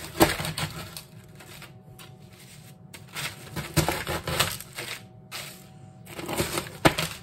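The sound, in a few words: crushing Oreo cookies into pieces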